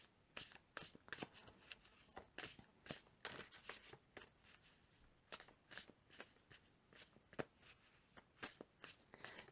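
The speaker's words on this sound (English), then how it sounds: "we'll get a few more cards out for you, Leo, and see what else is around you" Tarot cards are shuffled and drawn from the deck, giving a run of crisp, close riffling and slapping bursts in an irregular rhythm, fairly quiet, with no talking over them.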